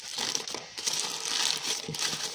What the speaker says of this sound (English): I have this reusable brown paper bag